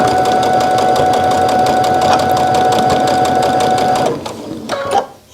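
A sewing machine hums in a fast, even whir while stitching a fabric face mask, running close and loud for about four seconds before slowing and stopping with a couple of brief final bursts.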